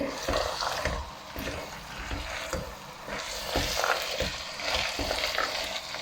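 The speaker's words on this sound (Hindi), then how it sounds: "2 मिनट इसकी बुनाई करेंगे।" Potatoes, carrots and peas stir-fried in a pan, a steady sizzle broken by repeated scraping and stirring knocks, close and continuous with no talk.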